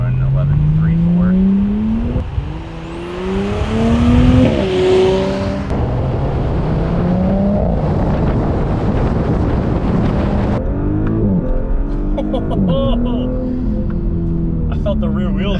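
Audi B9 S4 with full bolt-ons on E40 fuel, launching hard on a launch control run: loud, continuous engine roar climbing through rising revs with gear shifts, wind buffeting the microphone and people talking over it throughout.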